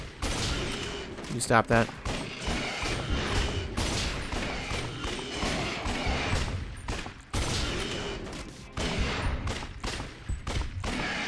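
Gunfire in the video game Lost Judgment during a boss fight, with dense bursts of shots and mechanical clatter over a busy game soundscape, a few words spoken partway through.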